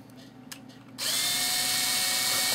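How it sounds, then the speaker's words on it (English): After a second of quiet room noise, a power drill whirs up loudly and runs steadily, boring a hole into wood at close range. "let's drill our first hole"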